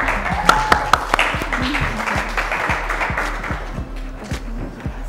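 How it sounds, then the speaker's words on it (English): An audience at a school quiz show, a secondary schools challenge, breaks into scattered clapping and taps, uneven rather than a full ovation, over a low background hum. "And a huge round of applause for Nisa"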